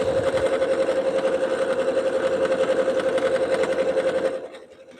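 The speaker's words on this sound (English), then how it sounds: "When you do the zigzag, the serpentine stitch on this, it basically feeds itself into the machine, which leaves my hands free to do other things." A sewing machine runs a zigzag serpentine stitch on a soup bowl cozy, a steady fast mechanical whir and hum that continues evenly for several seconds before stopping abruptly.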